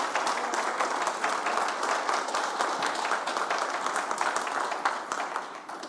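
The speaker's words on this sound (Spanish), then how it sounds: "Denle un aplauso, hermanos, por favor" A church congregation claps steadily in a dense, sustained round of applause that continues evenly before tapering slightly at the end.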